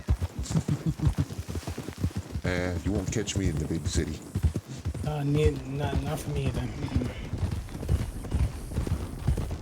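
Hoofbeats from horses in a GoldRush RP western game clop along in the background while two people chat over them, the clatter steady and fairly close.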